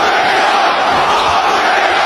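Football supporters roar and shout abuse in a dense, continuous wall of crowd noise, loud and steady throughout with no single voice standing out.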